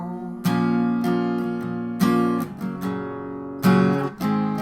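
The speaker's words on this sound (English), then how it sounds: "So if you want to sing with it, here's a strum version you could play." An acoustic guitar strums chords for a song, with full ringing downstrokes marking a relaxed, steady rhythm and chord changes, played alone with no voice.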